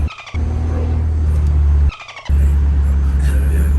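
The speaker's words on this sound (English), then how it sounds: "Now we're gonna test drive that Lambo Urus." A Lamborghini Urus on a test drive hums with a loud, steady engine drone inside the cabin, twice dropping out briefly before resuming, with some tyre or road noise mixed in.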